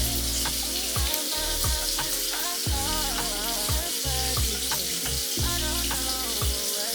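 Water splashes and drips steadily while a face is washed with soap and a towel, with more water added. Irregular wet slaps and trickles sound close and fairly loud against constant running water. No one speaks.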